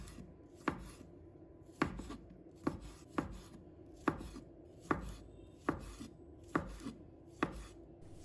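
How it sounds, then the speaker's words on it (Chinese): A knife chops a tomato into small pieces on a board, about ten sharp, separate thuds in an even, unhurried rhythm, close and clear with no talk. "再把它切成小块"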